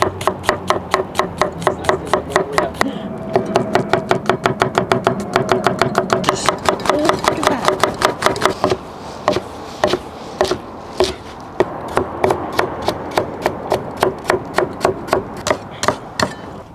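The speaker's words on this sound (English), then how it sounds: "I cut up some garlic" A knife chops garlic, onions, kale, green beans, carrots, jalapenos and tomatoes from the garden on a board: fast, even, rhythmic strikes in long runs with a brief pause partway through.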